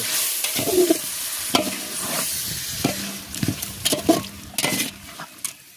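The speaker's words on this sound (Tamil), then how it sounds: "நல்லா கிண்டி" Chicken biryani being stirred in a pan, with close scraping and clinking of a spoon against metal over a steady sizzle and hiss of frying, irregular strokes throughout with no talking.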